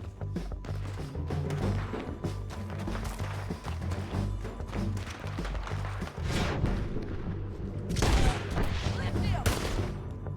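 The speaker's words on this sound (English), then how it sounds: "Who's shooting? Who's shooting? Guys, who's shooting?" Dense gunfire fills a shootout in Red Dead Redemption 2, overlapping rifle and pistol shots cracking repeatedly with heavier blasts near the end, close and loud, with voices shouting underneath.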